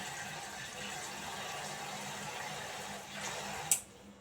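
Running tap water gushes in a steady, soft wash as a mutton head is rinsed beneath it, ending with a sharp brief splash or knock just before the flow quiets.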